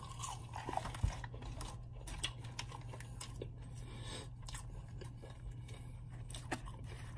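Someone eating salted fries, with soft crunching and chewing close up at low level, scattered bites over a faint steady background hum.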